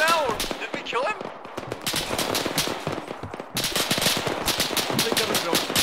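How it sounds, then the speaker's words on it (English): Rapid bursts of machine-gun fire mixed with heavier mortar impacts in the military video game Arma, continuous and dense throughout, loud and close, with voices faintly under the gunfire. "Oh, mortar fire! Spread out!"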